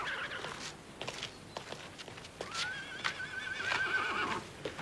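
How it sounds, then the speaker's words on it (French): Horses at a mounted police stable whinny in a long, high, wavering neigh, mid-distance and clearly audible, with scattered hoof clops and stable noises around it and no talk. "Combien de chevaux vous avez ici?"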